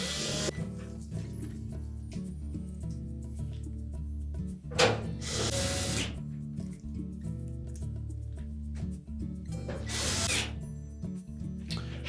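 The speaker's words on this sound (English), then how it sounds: "And then we can reinstall the retaining screws." Retaining screws go back into a GE range while a steady electrical hum runs underneath, marked by two short bursts of driving or ratcheting noise and faint metallic handling between them.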